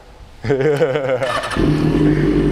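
A motorcycle engine revs loudly and close by, climbing and falling in pitch through a shift at about one and a half seconds, then settling into a steady, strained drone.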